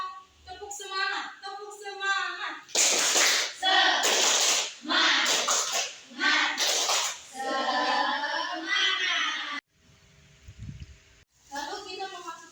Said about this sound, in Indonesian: alangkah baiknya kita tepuk semangat